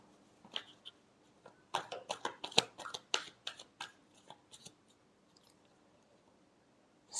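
Tarot cards being shuffled give a quick burst of dry papery flicks and riffles, close and fairly soft, which then trail off into quiet with a few scattered taps.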